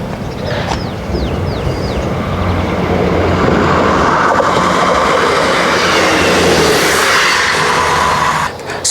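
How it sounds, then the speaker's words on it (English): An EMR one- or two-car train unit pulls into Whittlesey station, its rumble building from a moderate level into a steady loud roar as it nears, with brief high squeals early on. "here comes guessing it's EMR, probably 1 or 2 car train unit"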